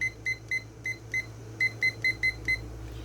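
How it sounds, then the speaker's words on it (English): A kitchen timer being set for canning gives a run of short, sharp electronic beeps in quick irregular bursts over a low steady hum from the stove, close and clear with no talk. "So I'm going to set my timer"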